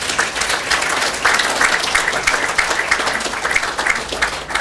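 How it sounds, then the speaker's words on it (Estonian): Steady, dense applause from a conference audience welcoming a speaker to the stage, filling the room evenly with a full wash of clapping and no pauses. "olge head aplausisaatel"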